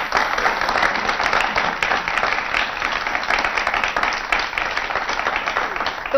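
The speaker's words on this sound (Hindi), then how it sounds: "उनके लिए उन्हीं की तालियों में उन्हें दाद देना चाहेंगे" An audience at a televised Urdu poetry gathering applauds for several seconds, a steady, moderately loud patter of many hands clapping with a few crisp individual claps standing out.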